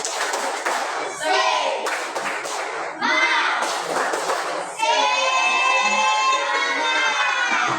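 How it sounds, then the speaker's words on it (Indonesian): A classroom of children performing the tepuk semangat clapping chant, with bursts of rhythmic hand claps and thumps mixed with the kids' loud shouted chanting voices, repeated in several quick rounds. "Sekali lagi, tepuk semangat."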